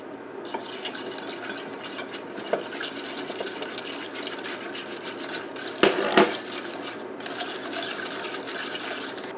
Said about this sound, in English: I'm going to whisk this while adding the rest of the milk.